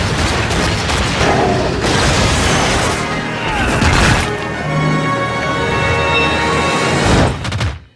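Loud, dense missile blasts and booms rumble one after another in The Wonderful 101 video game, with crashing bursts layered over game music in a continuous chaotic barrage.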